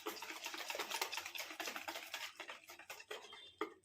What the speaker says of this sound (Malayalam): ഇനി നമുക്ക് വിസ്ക് ഉപയോഗിച്ച് നന്നായിട്ടത് മിക്സ് ചെയ്യാം.